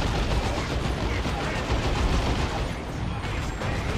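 Dense, continuous gunfire from shooters engaging a Shuriken Cannon in a tabletop wargame battle fills the scene as a loud, unbroken barrage of rattling shots and blasts.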